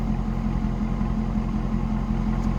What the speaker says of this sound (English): did you hear that exhaust? Got a nice little deep note to it.